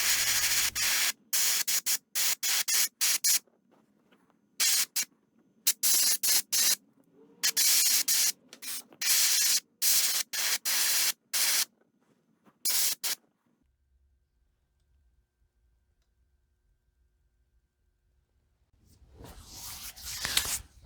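Bursts of spray paint hiss onto a wooden lipless crankbait, first fluorescent orange then iridescent orange, in many short and longer blasts over about thirteen seconds, close and loud, followed by near silence and then a brief rustle.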